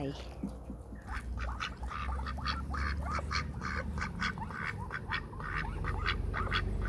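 Peking ducks quack repeatedly in a busy, overlapping chorus, loud and close, while a person talks over them in Thai.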